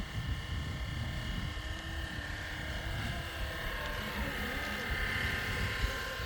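Rotor whine and drone of a 3D-printed Hughes MD500 model RC helicopter flying at 80% head speed outdoors, a steady continuous hum with wind noise buffeting the microphone throughout.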